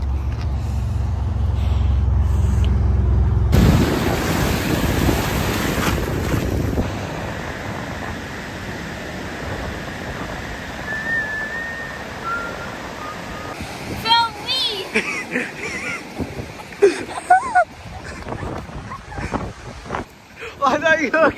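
Ocean surf rolls onto a San Francisco beach as a steady low roar, buffeted by strong wind noise on the microphone, with people, including a child, talking over it in the second half.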